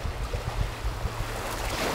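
Small waves lap and wash continuously at the water's edge close by, a steady low rush with soft irregular splashes and no voices.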